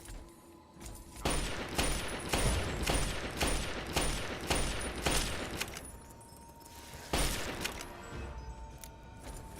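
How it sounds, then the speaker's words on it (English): Lincoln's repeater rifle in Fallout: A Tale of Two Wastelands fires in a rapid, steady string of loud, close shots with clattering action between them, broken by a brief pause before the volley resumes. "Lincoln's repeater actually shoots pretty fast in this"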